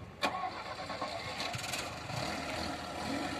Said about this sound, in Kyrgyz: Мотордун үнү дагы аябай жакшы чыгат экен.